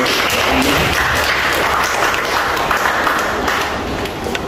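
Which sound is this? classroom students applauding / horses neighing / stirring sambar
classroom students applauding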